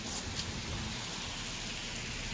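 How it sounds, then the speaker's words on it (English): Heavy rain pours steadily outdoors, a dense, even hiss of drops on surfaces that fills the whole stretch at a constant level, with no voices over it. "it's raining like crazy"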